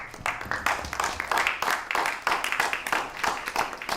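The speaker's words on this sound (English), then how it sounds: "If we could have a round of applause." An audience applauds at an evening event honouring a nonviolence trainer, the clapping steady and dense through the whole stretch, with cheering voices mixed in.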